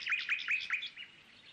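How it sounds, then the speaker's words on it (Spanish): Amazonian harpy eagles in the Ecuadorian rainforest give a quick series of four or five thin, high-pitched screeching calls, fairly faint and fading out toward the end. "El chillido de estas arpías amazónicas alertaba a los poblados de los indios guaorani de la presencia de enemigos."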